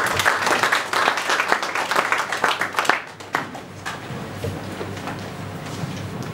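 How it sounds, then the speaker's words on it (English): A lecture audience applauds, dense clapping swelling and easing, then thinning into scattered claps toward the end. "Please join me again to give this man applause."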